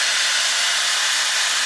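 A Dyson Airstrait runs as a hair dryer blower, giving off a loud, steady rush of airflow hiss. It is close and unbroken, with no voices over it.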